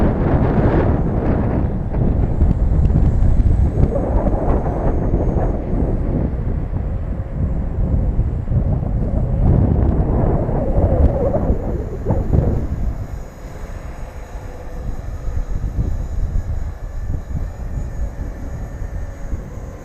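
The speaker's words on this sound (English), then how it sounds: "That sure is some ripping wind, though." Strong, ripping wind buffets the microphone in a loud, continuous roar that surges for several seconds, then drops to a lower, steady rush.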